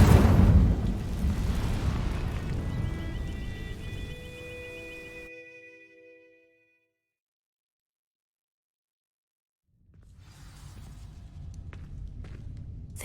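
Casting the Incendio fire spell in Hogwarts Legacy to burn dry vines produces a loud whooshing burst with a tonal magical shimmer. It fades to silence, then a fresh rush of crackling fire rises near the end.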